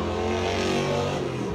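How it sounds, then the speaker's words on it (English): A motor vehicle engine roaring close by, a harmonic whine that holds then drops in pitch toward the end as it passes, loud and alone with no talk. "Don't steal my thunder, motorcycle."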